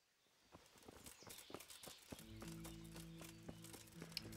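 Horse hooves clopping at a walk in the medieval video game Kingdom Come: Deliverance, a steady sequence of close thuds that grows louder, joined partway through by a low sustained musical drone.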